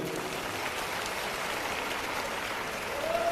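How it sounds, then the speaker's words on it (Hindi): A crowd gives loud, sustained applause for a hymn at a live gathering for elderly pilgrims. The dense, even clapping fills the whole stretch. "एक बार सुंदर भजन के लिए जोरदार तालियां"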